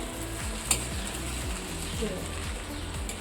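Sweet Koli-Konkani style coconut rice (narali bhaat) stirred gently in a pan after steaming, a soft steady sizzle with light scraping strokes and a couple of brief clinks, close by.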